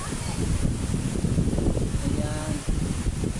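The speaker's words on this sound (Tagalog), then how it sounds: "yung hangin ng amihan ay malakas na malakas talaga" Strong amihan wind blows at the sea, buffeting the microphone with a heavy, fluctuating low roar that runs the whole time beneath someone talking.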